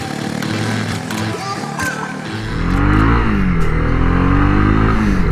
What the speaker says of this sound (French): la sonorité du moteur est vraiment sympa